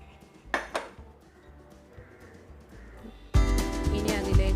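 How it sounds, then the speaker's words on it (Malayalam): A thick-bottomed cooking pot is set down with a couple of metallic clinks, then water gushes into it in a loud, sudden, steady pour. "ഒരു അടി കട്ടിയുള്ളൊരു പാത്രം വെക്കാം. എന്നിട്ട് അതിലേക്ക് വെള്ളം ഒഴിച്ചു കൊടുക്കാം."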